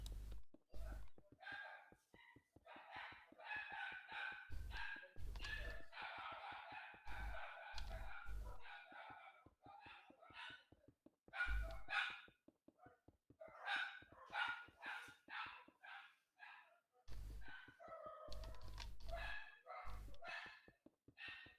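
Dogs bark repeatedly at someone at the front door of a home, in sharp bursts spread irregularly across a long stretch and heard at a moderate distance, with quieter gaps between the volleys.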